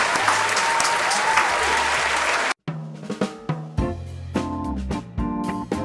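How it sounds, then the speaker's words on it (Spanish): A crowd bursts into loud, dense applause for a few seconds, then the clapping cuts off and music begins. "Un aplauso."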